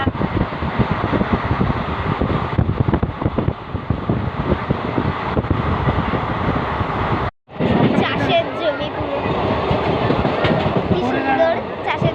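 A train runs along the rails on a four-hour journey toward Tarapith, giving a loud, continuous rumble and rattle from inside the carriage, with voices heard over it and one brief cut in the sound.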